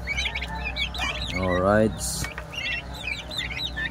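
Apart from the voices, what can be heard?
young turkeys and chickens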